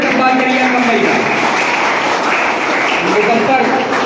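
An audience at an Anjuman Islamia gathering honouring poet Akram Jaunpuri claps steadily and loudly, a continuous wash of applause with a speaker's voice rising over it at times.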